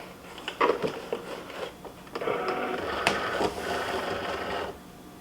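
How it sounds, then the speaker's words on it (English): A Cricut Explorer Air 2 cutting machine works on vinyl, giving off soft mechanical whirring and clicking bursts as its carriage shuttles back and forth, fairly quiet and close with no talk. "Now I'm going to open my Explorer Air 2 and we'll get this inserted in."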